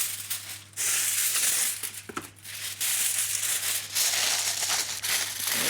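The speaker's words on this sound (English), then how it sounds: "And then 2 pieces of foil go on top." Pieces of foil crinkle and crumple close up over baking paper inside a pot, a loud continuous rustling with a few short pauses and no talking.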